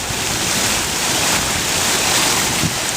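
Water from a tulip-shaped fountain in Fountain Court sprays and splashes in a steady, dense rush, soaking the ground over a wide area, with a close, stormy, surf-like roar and no pauses.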